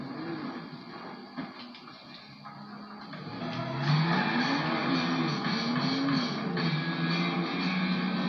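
Car driving in Grand Theft Auto San Andreas, a steady engine drone that rises into a louder revving whine partway through, continuous and close with no talking.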